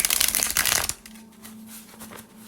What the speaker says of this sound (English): I'm gonna shuffle these things up right now.